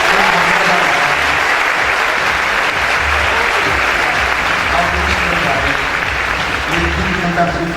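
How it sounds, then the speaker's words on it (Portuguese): Steady, dense applause fills a fashion awards ceremony in Portugal as an award winner is honored, loud and sustained throughout with the clapping close and continuous. "Então não há uma salva de palmas para ela."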